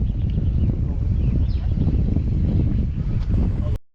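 Strong sea wind buffets the microphone on a fishing trip at sea, a constant heavy low roar lasting several seconds before cutting off abruptly.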